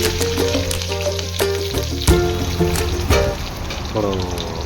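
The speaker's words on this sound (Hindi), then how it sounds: "मसालो जीरो राई तो मिर्चा डाला" Cumin, mustard seeds and chilies fry in hot oil for a raw mango curry, a loud close crackling sizzle with spattering pops and occasional scraping of a spoon in the pan.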